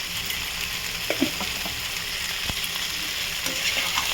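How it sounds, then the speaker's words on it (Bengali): Mutton sautéing in a pan with sugar and garam masala gives a dense, continuous sizzle, close and steady, with a few soft scrapes of stirring and no voices. "এটাকে কষিয়ে ভালো করে ফিরছি"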